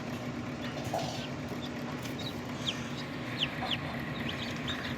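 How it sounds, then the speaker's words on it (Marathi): Pure desi chicks hatched from an incubator, many high thin peeps and cheeps scattered over a steady hum, close and continuous. "प्युअर गावरान पिल्ले आहेत"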